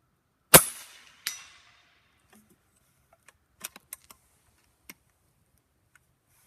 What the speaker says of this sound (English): we want you to hear the energy, the impact that you're having on steel